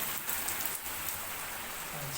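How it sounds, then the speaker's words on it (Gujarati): Heavy rain falls steadily at the Jagnath Mahadev temple, a soft, even hiss of drops hitting surfaces that is fairly faint and distant, with no voices. "અત્યારે વરસાદ ખૂબ વરસી રહ્યો છે"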